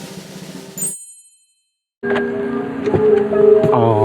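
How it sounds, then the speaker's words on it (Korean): A bright chime rings and fades on entering a Xpeng G9, then after a short silence a soft, layered tonal chime sequence plays over a low hum inside the car. "차에 들어갈 때 소리가, 영롱한 소리가 나고요"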